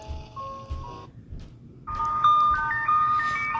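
An old emergency alert system alarm tone plays as a series of bright, clustered electronic beeps, cut by a short pause, then returning louder with layered pitches.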